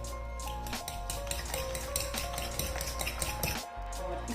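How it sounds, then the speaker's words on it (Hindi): A fork beats eggs into cake batter in a bowl, giving a rapid, continuous run of close metallic clinks and soft wet taps against the sides without pause. "अंडे डालने के बाद भी इसको अच्छी तरह हम ऐसे कांटे की हेल्प से मिक्स कर लेंगे"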